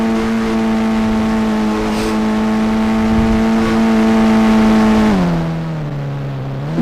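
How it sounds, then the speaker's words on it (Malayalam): A video-game car engine hums steadily at a constant pitch, then its tone drops as the vehicle drives off, loud and alone with no talk. "നമ്മൾ ഇനി കാറിൽ കയറിയിട്ട് പുതിയ വീട്ടിലേക്ക് പോകാൻ പോവുകയാണ്"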